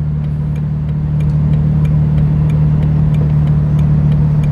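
A 4.0-litre Jeep Wrangler TJ rounding a roundabout, its engine a steady loud low drone with faint road hiss and light ticking on top, continuous and close from inside the cabin, no speech.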